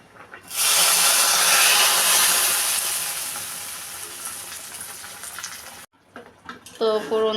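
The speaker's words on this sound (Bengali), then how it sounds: "তো ফোড়ন দিয়ে দিলাম।" Spices for tempering hit hot oil for a moong dal and cauliflower dish, bursting into a loud, hissing sizzle that slowly fades, followed by clattering kitchen noises near the end.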